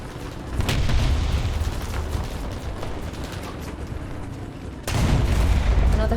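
Tank cannon shot hitting a Panzer III in War Thunder: two heavy booming cannon blasts, one early and one near the end, over a steady rumbling engine and battle noise, with no talk.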